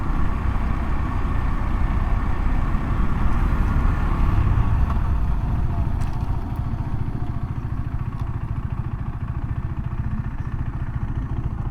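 A Husqvarna Svartpilen 401 motorcycle cruises gently in the early morning, its engine a steady, close, low rumble with wind noise, easing slightly in loudness partway through.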